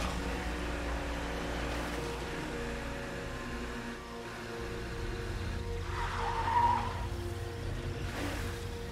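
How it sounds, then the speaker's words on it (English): In-game car in State of Decay 2 reversing hard and spinning, a steady engine drone with tire squeal and skidding building toward the end, continuous and moderately loud with no talk. "we're gonna get in and just reverse as hard as we can and spin"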